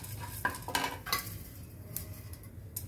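Spices and a dried red chilli being lightly dry-roasted in a pan for raw mango rasam, with a few sharp metallic scrapes and clinks of a spoon stirring against the pan over a quiet background.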